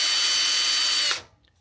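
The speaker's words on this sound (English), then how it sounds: "you're going to reverse your drill." A power drill running in reverse to remove a rivet nut drill adapter whirs at a steady high pitch for about a second, then abruptly stops, leaving near silence.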